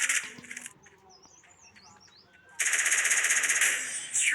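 Gunfire in a video game: a short burst of rapid automatic shots, a pause filled with whistling chirps, then a loud sustained stream of fire that continues to the end.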